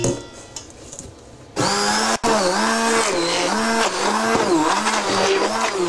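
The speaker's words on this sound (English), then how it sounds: "I'm going to beat all that together until it's smooth." Loaf batter of butter, sugar, eggs, flour and baking powder being beaten: a quiet start, then a loud, steady motor whine with rhythmic pulsing strain as the mix churns.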